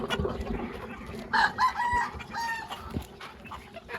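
Desi chickens cluck and squawk nearby in short, uneven bursts, with one brief crow-like call rising above the farmyard chatter.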